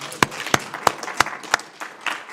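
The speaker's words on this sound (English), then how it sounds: "Would you please give them another round of applause?" An audience at a New American Leadership Academy cohort reception claps, with a handful of sharp, distinct claps spaced evenly, moderately loud and fairly close.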